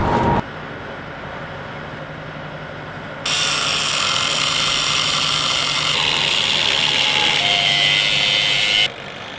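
Impact driver fastening a board during barn framing restoration, a loud sustained burst of rapid hammering whir lasting several seconds after a brief lead-in, close and alone.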